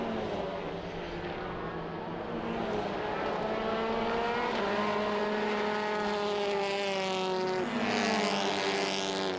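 Honda and Hyundai TCR touring race cars at the Hungaroring circuit, engines droning steadily with rising and falling pitch as the cars pass, loud and continuous throughout with no talk.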